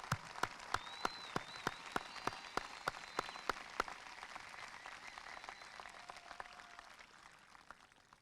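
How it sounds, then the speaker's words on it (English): Graduation crowd at a high school ceremony clapping in thanks for parents and grandparents: quiet, distant sustained applause with a few sharp, regularly spaced claps standing out near the microphone, fading gradually over the final seconds. "I hope you'll join me in a round of applause to say thank you to all of the parents"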